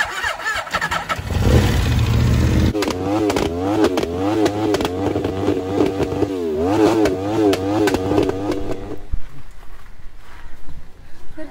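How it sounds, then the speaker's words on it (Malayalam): A loud modified motorbike revs hard in repeated throttle bursts, its exhaust spitting fire and smoke, the engine note rising and falling close by with some voices in the background. "ഇത് ബൈക്ക് മേടിച്ചിട്ട് തീയ പുകയെ സൗണ്ട്."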